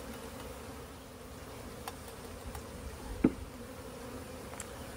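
Honeybees, about half a cup of them, hum in a steady, low buzzing drone that holds throughout, with a few faint clicks and taps.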